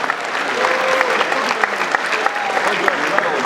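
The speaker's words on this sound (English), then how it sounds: "can we give the ladies a round of applause?" An audience at a Nigerian comedy show in Lagos applauds for the ladies, with dense, steady clapping and some crowd noise throughout, and a voice heard faintly under it.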